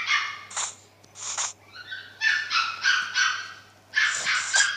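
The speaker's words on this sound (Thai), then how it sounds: "หมาจะเห่าอะไรนี่หมาวะเนี่ย" A dog barks repeatedly in short bursts, then a quick run of yips and a whimper, moderately distant and fairly faint over a low steady hum indoors.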